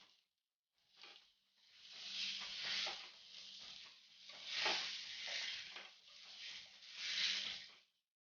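Brinjal slices fry in a pan with a steady crackling sizzle that swells and eases in waves, with small scraping stirs and a low hum underneath; no one speaks.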